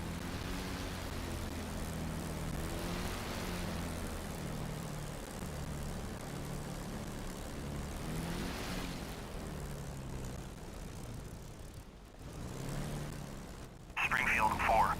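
Steady propeller-engine drone of a WW2 fighter in the DCS flight simulator, holding a constant low hum throughout, with a brief dip and then a louder surge of engine noise near the end as the takeoff run begins.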